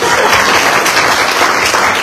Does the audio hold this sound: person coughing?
no